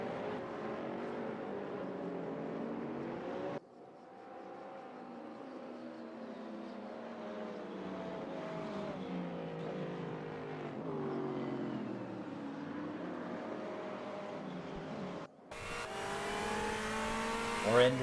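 Race car engines roar and rev through a sim-racing game lap at Portimao, sustained droning pitch sweeps rising and falling with gear changes, cut by abrupt shifts in sound.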